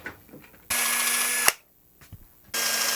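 A power drill with a 2mm bit bores into a guitar body blank in two loud, whining bursts, with a quiet pause and light handling noise between them.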